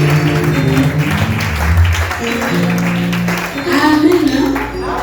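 A church congregation applauds in a sustained wash of clapping beneath music and voices, loud and continuous throughout.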